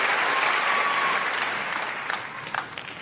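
Audience applause at a club gathering, a broad steady wash of many hands clapping that slowly thins toward the end, with a few louder individual claps standing out.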